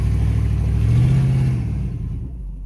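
A Pontiac car engine hums and rumbles up close while driving, a low droning note that swells briefly before easing off and fading slightly toward the end.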